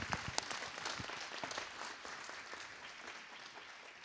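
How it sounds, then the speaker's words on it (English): Steady round of applause from a breakfast audience, many hands clapping continuously at a moderate, somewhat distant level for the whole few seconds. "One more round of applause."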